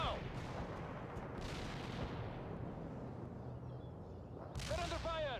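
Gunfire and artillery in the real-time strategy game World in Conflict, during a river-crossing battle: dense, continuous rumbling barrages and shots with a brief sharper burst near the end.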